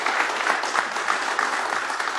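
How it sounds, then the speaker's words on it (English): A seated audience applauds after a talk on engineering teams, a steady, even patter of many hands clapping throughout, moderately loud with no speech over it. "so big round of applause for Michael."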